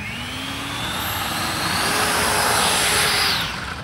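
A model MiG jet takes off from a short-cut grass runway with a steady loud turbine whine that climbs in pitch and swells as it passes close by, then fades slightly at the end.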